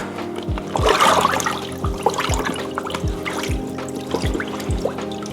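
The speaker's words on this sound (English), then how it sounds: "And now we're going to put the jeans back in" Jeans dropped back into a basin of cold water for rinsing, with sloshing, splashing and trickling water, busiest early on and then a steady gentle dribble, close by and with no talk.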